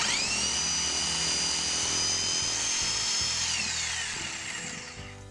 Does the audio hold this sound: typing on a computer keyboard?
no